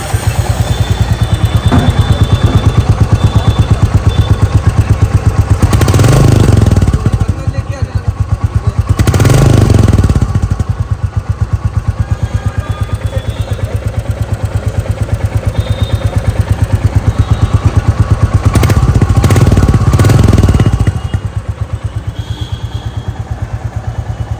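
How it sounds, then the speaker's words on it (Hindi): A Royal Enfield Bullet 350 Battalion Black motorcycle idles with a deep, steady thumping exhaust beat, rising into a few louder revs, close by and continuous. "ये है इस बाइक का एग्जॉस्ट साउंड, जो पहले से ज्यादा थम्पी हो चुका है"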